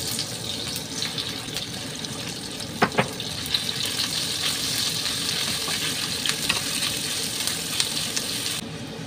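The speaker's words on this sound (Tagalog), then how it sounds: "Gisa-gisa lang naman, mag-isa ng sibuyas at bawang and then minced pork." Onion, garlic and minced pork sauté in a hot pan, giving a continuous loud sizzle broken by stirring scrapes and a few sharp utensil clacks against the metal.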